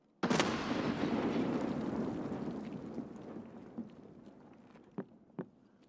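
A grenade blast in a shooter video game hits suddenly, a loud booming burst that rolls off into a long fading rumble, followed by a few faint thuds and clicks.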